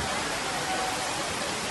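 Heavy rain pours in Nathdwara, Rajsamand district, Rajasthan, as a dense, steady hiss of water with no breaks.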